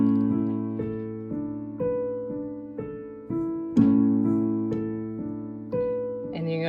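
Piano playing the Living Hope intro in A, with a left-hand octave A under gentle chords struck about once a second, each note ringing and decaying cleanly and close, with no talking.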